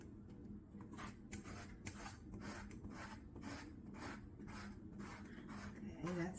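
Steady rhythmic rasping of lemon zest being grated on a metal grater, close and continuous strokes with a faint low hum beneath, no voices.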